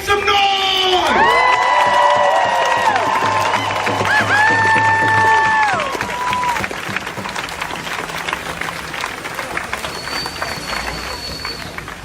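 A rally crowd on city streets in Oregon cheers and shouts, with loud whoops and whistles rising over a roaring mass of voices that stays strong and then eases slightly in the second half.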